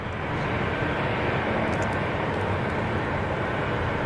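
Jet departing Zurich Kloten Airport, a steady broad roar of engine thrust heard from a distance, sustained and even throughout with no voices.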